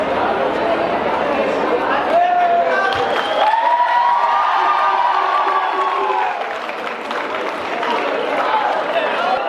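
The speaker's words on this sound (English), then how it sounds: "So give him a big round of applause" Crowd at a college inauguration gathering in a courtyard in Kerala, India, claps and cheers loudly and steadily for about nine seconds, with shouts and chatter mixed through the applause.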